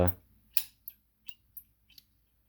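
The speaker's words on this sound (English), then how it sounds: "these little tin snips here, we have some Crescent tool company snips" Small pair of Crescent tin snips, worn and a little loose, opened and closed in the air: one sharp snip and then several lighter metallic clicks at uneven intervals, close by.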